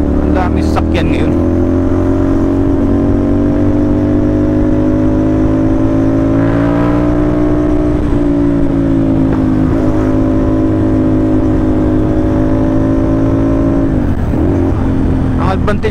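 CFMOTO NK450 motorcycle fitted with an Orion exhaust, its engine droning loud and steady on a busy road with rising and falling revs throughout, a few sharp clicks near the start.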